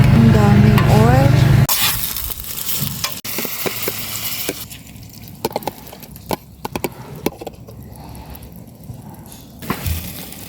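Scrambled egg frying in plenty of oil at a camping site: a steady crackling sizzle with scattered scraping and stirring taps, following a brief loud burst at the start.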